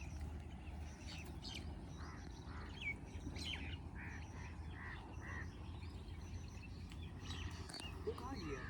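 Birds call outdoors, with scattered short chirps and whistles rising over a steady low rumble throughout.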